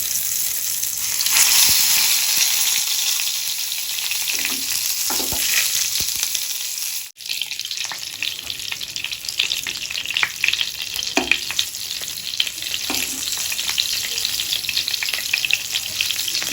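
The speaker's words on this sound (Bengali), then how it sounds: "আমি এবারে বেগুনগুলো একটা একটা করে ছেড়ে দেবো এইভাবে" Eggplant pieces for a yogurt eggplant curry crackle and sizzle steadily in hot oil as they are dropped into the pan, with a brief hush near the middle and spatula scrapes later.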